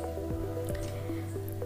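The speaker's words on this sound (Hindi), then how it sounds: "उसके साथ मैं 2 कप पानी ऐड कर रही हूँ।" Water is poured into a pot holding sugar for gulab jamun syrup, a quiet trickle with soft drips and squishy splashes over a steady low background hum.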